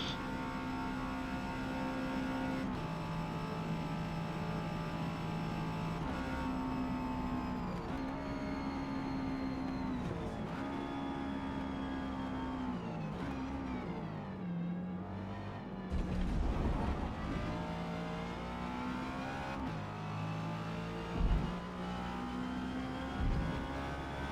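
Honda S2000 racing in the C class at Daytona Speedway in Forza Motorsport: a steady, loud engine drone climbs through each gear with brief dips at the upshifts, and another car's engine is close by throughout.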